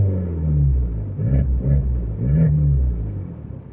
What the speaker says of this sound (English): we're going to give you a couple revs here